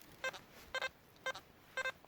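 An XP ORX Deus metal detector gives four evenly spaced short electronic double-beeps over a faint hiss, quiet and alone.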